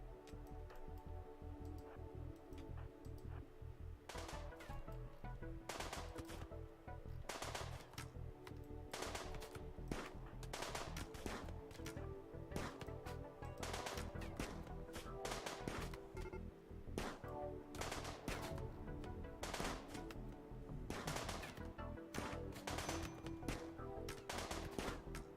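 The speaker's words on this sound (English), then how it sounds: "And we're just doing the usual shooting at each other thing." Rapid gunfire exchanges in the colony game RimWorld, dense clicky shots and bursts repeating throughout over a steady music bed, with no pauses in the shooting.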